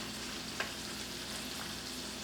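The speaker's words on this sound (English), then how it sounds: "But you just fry it until it gets crispy" Kale leaves fry in hot oil until crispy, a dense, even hiss of sizzling that carries steadily throughout, with one small crackle near the start and nothing else over it.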